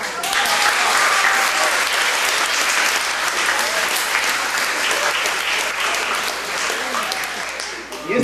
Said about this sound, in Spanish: yo quisiera que se dieran un aplauso a todas y a todos